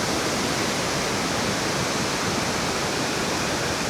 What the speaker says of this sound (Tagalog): Maririnig natin mula dito yung pagbagsak ng tubig